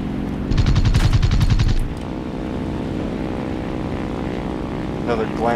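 In the War Thunder game, the engine of an N1K2-J Shiden Kai fighter plane gives a steady propeller drone. A burst of rapid machine-gun fire rattles over it early on, and a brief voice is heard near the end.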